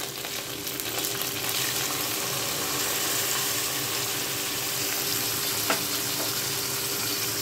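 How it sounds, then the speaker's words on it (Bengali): Spice paste with ginger-garlic paste sizzles and fries steadily in a pan, a loud continuous hiss with occasional stirring clicks. "ভালো করে এখন এই মশলাটা কষাতে হবে।"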